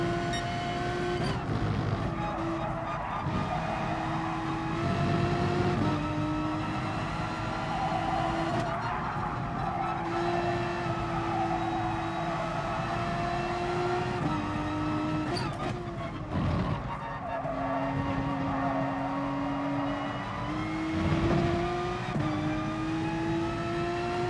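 An F1 race car engine in GT Sport drones loud and steady through the whole stretch, its pitch climbing and dropping with each gear change.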